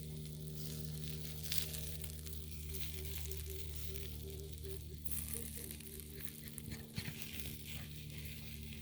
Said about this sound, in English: Corn is cooking